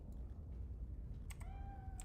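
Brief clicks and then a short high meow from a video game cat, heard over a constant low hum.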